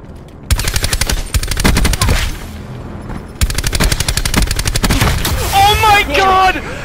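Rapid, loud bursts of automatic gunfire from Black Ops 4 multiplayer rattle in quick succession with a brief lull, while excited shouting rises over the final seconds.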